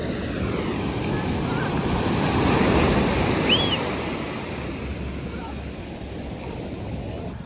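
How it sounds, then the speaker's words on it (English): Waves wash onto Portreath beach in Cornwall, a steady surf roar with gusty wind noise on the microphone that swells midway and then eases, with no speech. "Okay, looks like I peed myself now, but it's all right. I'm on the beach."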